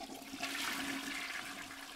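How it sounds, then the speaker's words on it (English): A toilet flushing in a home bathroom, a close, rushing swirl of water that swells and then holds steady, heard alone for a couple of seconds. "Can I flush the toilet?"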